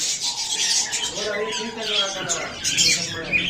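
Green parrots kept in cages at a bird shop give harsh squawks and chirps that run through the whole moment, mixed with a busy, noisy shop background.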